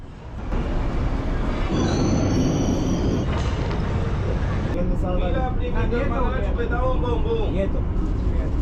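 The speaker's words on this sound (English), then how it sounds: "Time to hop on the metro again." Metro train ride in Venezuela: a loud, steady rumble of rails and carriage runs throughout, with high wheel squeals early on and people talking over the noise in the second half.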